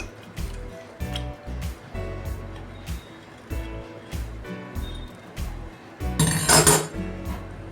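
Cooked brinjal is mashed by hand in a clay pot, giving soft rhythmic thuds and squishes at a steady pace, then a brighter clatter of utensil against the pot near the end.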